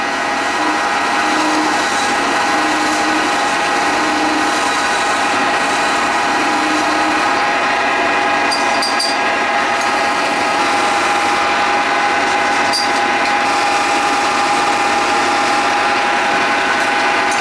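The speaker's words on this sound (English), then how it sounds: "And then I'll use my chisel just to finish it off. And take it down to the final size." Steel chisel paring down the wooden neck of a bagpipe chanter toward its final size, a steady scraping and shaving texture close by, continuous and fairly loud with no talking.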